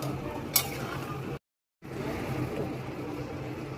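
Curry with potatoes being stirred in a pot after garam masala and ghee go in, giving a steady scraping, sizzling clatter with one sharp clink of a utensil near the start, interrupted by a short silent gap.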